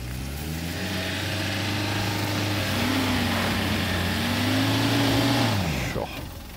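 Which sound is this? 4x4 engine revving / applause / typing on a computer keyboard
4x4 engine revving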